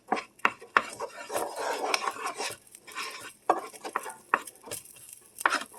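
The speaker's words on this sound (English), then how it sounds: "I'm going to mix the onions around so they start sweating" Onions stirred in a pan with a utensil, a series of irregular scrapes and clinks against the metal over a faint low sizzle, close and steady with no voices.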